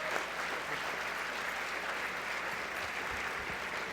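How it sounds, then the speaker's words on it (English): Sustained applause from a seated audience at a senior banquet, dense even clapping that fills the room at a steady level for several seconds. "Let's give them all one more round of applause"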